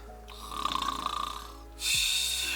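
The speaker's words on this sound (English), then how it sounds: "the loud snores" A sleeping person snores loudly in a van converted into a tiny camper home, with a rhythmic rattling buzz followed by a sharper snort near the end.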